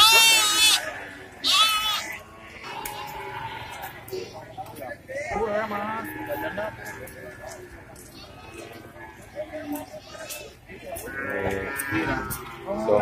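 Goats and sheep bleat at a busy livestock market in Bumiayu, Central Java, with a trader's voice talking loudly over the animals and crowd chatter throughout.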